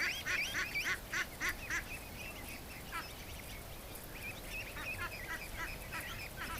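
Ducks gathered at a gate quack and honk in quick repeated bursts, loudest at first and then continuing more sparsely over a steady outdoor background hiss.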